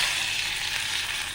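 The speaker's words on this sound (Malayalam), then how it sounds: "കടുക്, ഉള്ളി താളിച്ചത് ഒഴിച്ച് കൊടുത്തു." Hot mustard seed and onion tempering is poured into a lentil, drumstick and mango curry, giving a loud, close, continuous sizzle with no voices.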